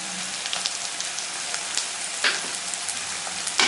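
Spices with turmeric, salt, ginger paste and tomato sizzle steadily in a pan for a Bengali dried fish (loitta shutki) curry, a close, continuous crackling hiss with occasional louder pops.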